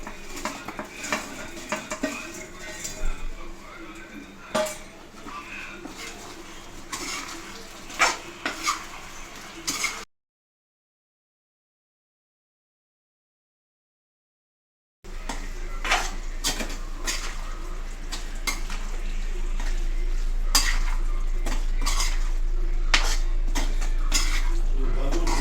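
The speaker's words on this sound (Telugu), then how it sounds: "ఇప్పుడు ఈ బాల్స్ అన్ని వేసి కలిపేసుకోవాలి." Fried veg Manchurian balls tossed and stirred into a pan of sauce, with clattering spoon-on-pan scrapes and light sizzling, broken by a few seconds of silence before the mixing resumes with a steady low hum.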